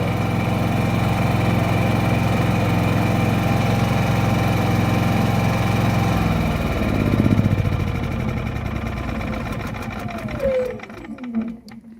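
A Senci SC 9000i inverter generator runs with a steady, loud droning hum for about six seconds, then the engine note shifts and winds down in pitch toward the end, with some faint speech nearby.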